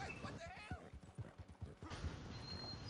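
A horse's hooves clip-clopping in Red Dead Online, a rapid, even rhythm of dull thuds, fairly faint, with someone talking over them.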